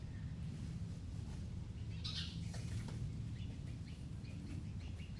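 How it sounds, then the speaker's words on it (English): Several small birds chirp and tweet indoors, with brief high calls scattered over a steady low room hum and background noise. "There's 3 or 4 birds in here."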